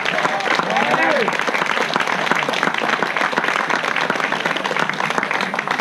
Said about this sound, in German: Ich glaube, der hat sich einen Applaus verdient.